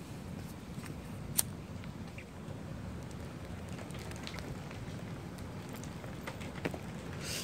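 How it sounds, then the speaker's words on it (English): Steady rain falling on a surface, a continuous patter with occasional sharper drips, fairly close and even throughout. "Here comes the rain again."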